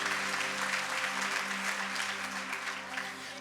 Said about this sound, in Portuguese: Você pode aplaudir Jesus por isso?